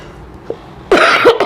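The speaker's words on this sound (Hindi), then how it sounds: "सॉरी बहुत खांसी हुआ है" Two or three harsh, close coughs from someone who is unwell burst out in quick succession after a brief quiet moment, loud and raspy.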